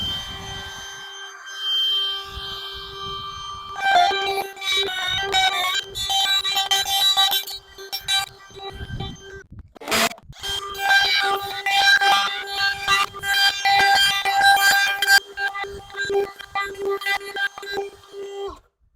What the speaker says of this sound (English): I've got 2 router bits, same type of bits, straight cutting bits with a bearing.